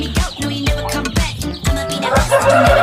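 Three-day-old chicks peep in a rapid, fairly loud chorus of repeated high chirps, close by, with no talk.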